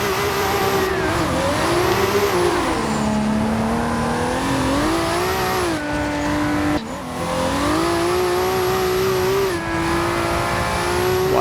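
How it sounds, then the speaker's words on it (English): A tuned 1000hp Toyota Supra in Forza Horizon 2 spinning its wide rear tyres, a loud, close engine roar rising and falling through revs with a steady high tyre squeal running over it, cut briefly once before surging again. "Lighting up those wheels again."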